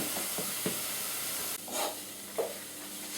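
Vegetables for fish cakes frying in a pan, a steady broad sizzle with a few soft stirring scrapes and a brief hissy burst partway through, close and continuous with no talking.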